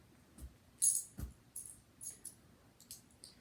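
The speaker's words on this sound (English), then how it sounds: "Coins. Silver coins." Small metallic rattles and clicks, a handful of short bursts at irregular intervals, like coins shaken inside a plastic container, close and fairly quiet.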